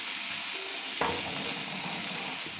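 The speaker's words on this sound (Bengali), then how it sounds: "দিয়ে আমি ভালো করে তেলের মধ্যে কষিয়ে নিচ্ছি।" Kashmiri chilli powder fried in oil while being stirred, for a cabbage and egg dish, producing a steady, close sizzle with a sharp spoon knock about midway and soft scraping strokes throughout.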